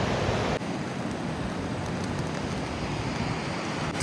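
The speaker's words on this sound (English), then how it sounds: "But there's a river here." A river on the Annapurna Base Camp trek in Nepal rushes steadily, a broad, dense wash of flowing water heard close and constant with no voices.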